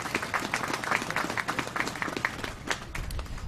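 Audience clapping at a mayoral inauguration speech, a short burst of many hands in quick, fairly loud succession, fading slightly toward the end.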